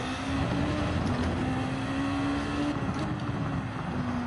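The Honda race car engine in Gran Turismo 7 holds a steady, loud drone through a qualifying run at Fuji, one unbroken tone with no gear change and no voices over it.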